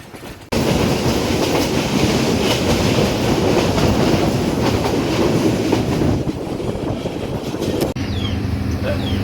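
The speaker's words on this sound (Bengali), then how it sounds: "যাতায়াতের মধ্যখানে ট্রেন এসে দাঁড়ালো মনতলা স্টেশন" Jayantika Express passenger train on the Dhaka–Sylhet route rolling along the rails near Montola station: a loud, close, continuous rumble and wheel clatter that holds steady for the whole stretch after a brief quiet start.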